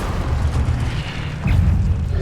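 An Incendio fire spell cast in the video game Hogwarts Legacy, heard as a loud, deep rumbling boom with a rushing whoosh that swells again halfway through the short burst.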